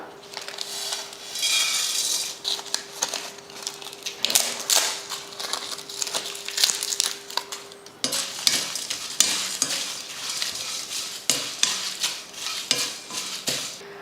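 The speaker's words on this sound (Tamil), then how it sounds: "அடுத்ததாக நம்ம எடுத்து வச்சுருக்க ஸ்பைசஸ் எல்லாம் போட்டு வறுத்துக்கலாம்" Whole spices for mutton kuzhambu being dry-roasted in a pan, with a rapid clatter of spatula scraping and tossing over a faint sizzle, close and busy throughout, no talking.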